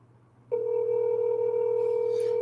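A telephone handset sounds a steady dial tone after a brief click, held loud and constant with a faint low hum beneath, while placing a call to someone who is not answering.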